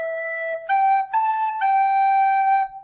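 A short, lower version of a Beethoven-style motif, four clean sustained tones with bright steady harmonics, the notes stepping slightly in pitch and held smoothly one after another, fairly loud and alone.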